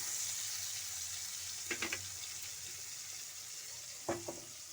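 Whole garlic cloves sizzle in a pan alongside tomato, onion, kalonji and chopped garlic, a steady close frying hiss throughout broken by two brief stirring clatters.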